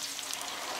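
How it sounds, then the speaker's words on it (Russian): Boiling water poured into a pan of frying minced meat, giving a dense, steady hiss and sizzle with a crackling rain-like texture, close and continuous with no talk. "Доливаем кипятка"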